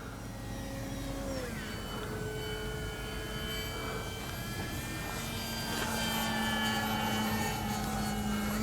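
An FMS 1700mm PA-18 Super Cub RC model plane drones steadily overhead, its electric motor a continuous buzzing whine that shifts in pitch as it passes and grows slightly louder toward the end, with outdoor field ambience.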